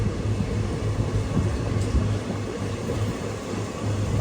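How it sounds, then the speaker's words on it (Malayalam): A passenger train on the Madurai to Bodinayakkanur line rolls along through coconut country with a steady low rumble and a humming drone, heard from inside the carriage and almost free of voices. "ഇത്ര നേരം ട്രെയിൻ നല്ല സ്പീഡിലായിരുന്നു വന്നത്"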